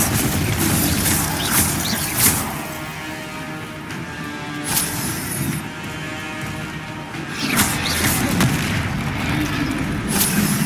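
Glacius ice spell cast during combat in Hogwarts Legacy, a loud booming burst amid a dense wash of other spell effects, impacts and game noise that stays busy throughout.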